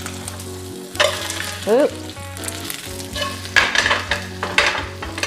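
Tortilla-crusted salmon sizzling loudly in a hot pan while being flipped: steady frying crackle with a few brief bumps and scrapes, and a short exclamation from a person partway through.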